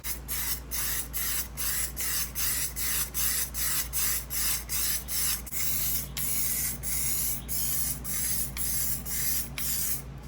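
Primer sprays onto the hatch and bumper of a Nissan 300ZX in a rapid series of short, even hissing bursts, close and steady, with a low hum underneath and no talking.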